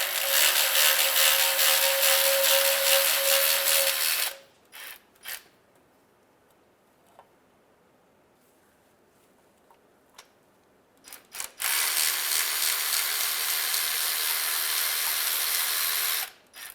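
A ratchet wrench loosening oil pan bolts on a 2003-2011 Honda Element, with two long bursts of rapid clicking separated by a quiet gap of a few scattered taps and clinks, loud and close.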